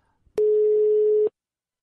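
A single telephone busy tone sounds after the other caller hangs up, one loud steady beep lasting about a second, preceded by a faint click and followed by silence.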